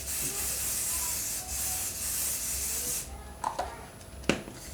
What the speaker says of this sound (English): This is my setting spray. It's called Cryolan Professional, but it's finishing one